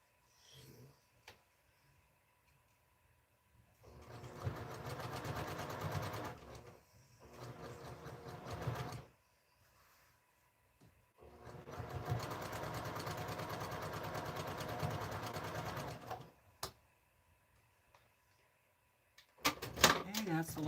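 A sewing machine stitching quilt seams runs close by in two long bursts, a steady whirring drone that stops and starts with quiet pauses between, and brief clicks and handling noises near the end.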